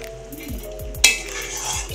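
Two eggs go into a steel pot of egg pulao on the stove, and a lid is set on with one sharp metallic clink. Quick bubbling and clattering surround it, close and moderately loud.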